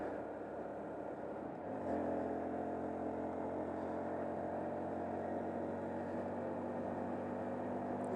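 A 2020 Honda Monkey 125 motorcycle engine revs up and holds a steady droning pitch while accelerating uphill, faint and continuous from the rider's position.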